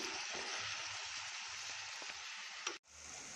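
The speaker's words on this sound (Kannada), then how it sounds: "ಒಂದು ಕಟ್ಟು ಮೆಂತ್ಯ ಸೊಪ್ಪು ಹಾಕ್ತಾಯಿದ್ದೀನಿ ಇದೆಲ್ಲ ಸ್ವಲ್ಪ ಫ್ರೈ ಆಗಲಿ" Fenugreek leaves frying in a pan give a steady, close hiss of sizzling oil with no talk. The sizzle stays even throughout, then stops abruptly for a moment near the end before resuming.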